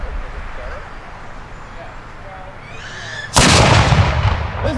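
A cannon fires a single loud, close, sharp blast at a militia muster day demonstration, cutting through quiet outdoor ambience and trailing off in a rolling echo.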